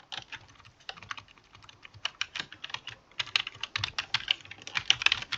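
Close, steady typing on a computer keyboard while writing C code, with rapid irregular key clicks that quicken and grow louder toward the end, no voices.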